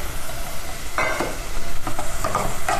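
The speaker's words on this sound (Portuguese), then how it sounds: "Vamos mexendo aqui para refogar" Corn cut from four ears and onion being stirred and sautéed in a pan, with a steady soft sizzle and scraping stir strokes throughout, no talking.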